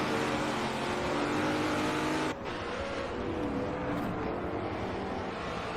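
GT4 race cars roaring around Watkins Glen in a racing video game, a loud continuous engine drone with a sharp drop partway through as the cars shift or pass, steady and dense with no voices.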